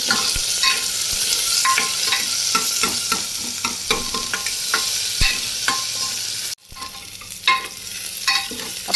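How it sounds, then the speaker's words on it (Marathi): Sliced onion with cumin sautés in a pan, sizzling steadily while a spoon stirs and scrapes in irregular clinks. One brief pause breaks the frying before it resumes. "तो आपण गुलाबीचा रंग येईपर्यंत परतून घेऊयात।"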